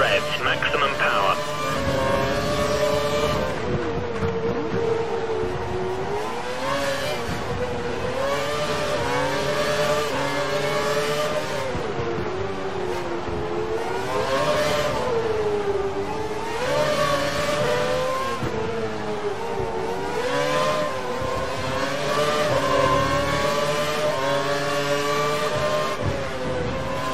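An F1 car in the F1 2012 video game at the Singapore round, engine at full revs and maximum power, gives a loud wailing drone with wavering pitch, running under steady commentary voices.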